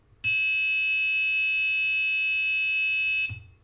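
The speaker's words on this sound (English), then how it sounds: "I don't know if it's because the buzzer is not very good" Steady electronic buzzer tone from a homemade DIY digital piano, sounding an A near 880 Hz; a single sustained, fairly loud pitched beep lasting about three seconds, starting and stopping abruptly with no talk over it.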